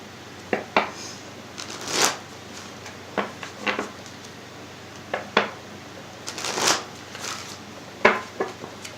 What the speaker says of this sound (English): I am thinking of you as I shuffle your cards.